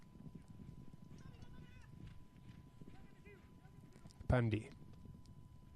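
Hooves of a quarter-horse-style polo pony thud on turf during a Nations Cup polo match, faint and rhythmic beneath a commentator's voice, with a brief loud burst near the end.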